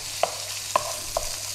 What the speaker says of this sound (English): So in with our beef. We want our beef in there. We want the beef to take on all the flavours of the garlic and ginger. Give it a quick stir fry round.